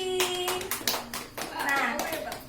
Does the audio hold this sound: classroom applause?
yes